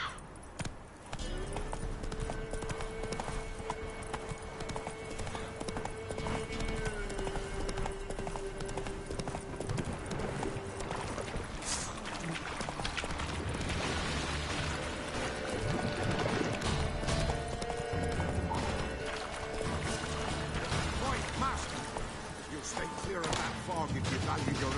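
Roach, Geralt's horse in The Witcher 3, gallops in a steady rhythmic clip-clop of hooves, mixed with game music and ambience and a voice speaking.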